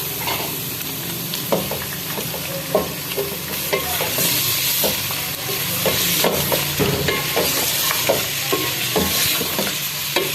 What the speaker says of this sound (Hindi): ये हम इसके अंदर डालेंगे ताकि ये भुन जाए गोश्त प्याज के साथ